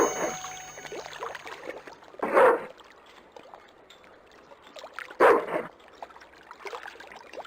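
Two short bursts of a dog barking in Broken Sword II, each a brief isolated yelp-like bark over a quiet game ambience of soft water and background sounds.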